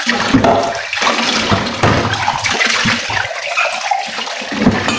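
Tap water gushes loudly and steadily into a sink during dishwashing at home, close by and continuous with slight splashing variations throughout.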